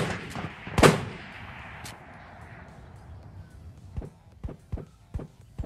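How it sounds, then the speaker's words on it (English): Gunfire in Ghosts of Tabor: one loud nearby shot with a long echoing tail, then a string of sharper, fainter distant shots in an irregular rhythm. "Can you tell where that fire's coming from?"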